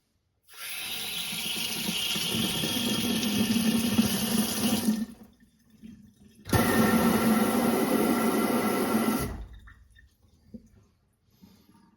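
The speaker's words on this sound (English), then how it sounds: "Now that the water is connected, I'll flush out the system to test it" Water gushes from a newly installed Beelee commercial kitchen faucet into a sink as the lines are flushed, two strong bursts of running flow separated by a brief pause, close and loud, then cut off.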